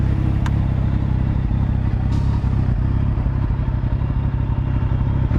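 A 2010 Kawasaki ZX14 sport motorcycle engine idles close by with a loud, steady, throbbing rumble, a faint clatter on top and no voices.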